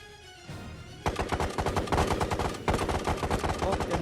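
Rapid bursts of automatic gunfire in the shooter game Escape from Tarkov, loud, close and sustained in quick repeated volleys after a short quieter opening.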